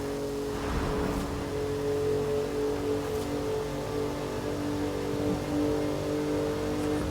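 Ford Bronco engine in Forza Horizon 5 droning steadily at a constant, sustained pitch, loud and close, with a brief surge near the start and no talk over it.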